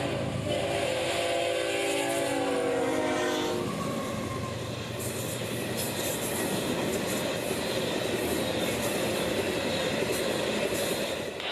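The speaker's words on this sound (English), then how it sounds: "165 loads of potash would come south, hauled by 4 locomotives and not 2 alike" A long southbound CSX potash freight of 165 loads, hauled by four mismatched locomotives on Florida's S Line mainline, rumbles past with a sustained horn blast at the start, then steady rolling wheel noise and clickety-clack.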